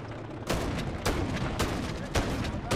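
In an online Hardpoint match of Call of Duty Modern Warfare, loud game gunfire crackles in repeated heavy bursts about every half second, close and dense, layered over a continuous rumble of battle noise.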